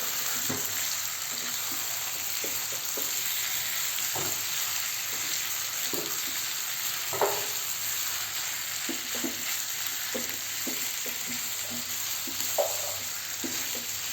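Marinated butter garlic chicken frying on full flame gives a loud, steady sizzle throughout, broken by scattered soft pops and the occasional utensil tap.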